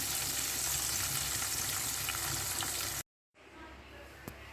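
Batter-coated squid frying in hot oil, a steady dense sizzle that runs loud and close for about three seconds, then cuts out briefly before a fainter, quieter frying resumes.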